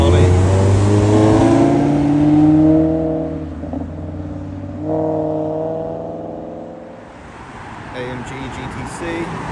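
Supercars, including an Aston Martin DBS Superleggera, Ferrari, Maserati and Mercedes-AMG GT C, roll in to a prestigious supercar event, a loud engine drone that rises and falls as cars pass close by, with someone talking over it.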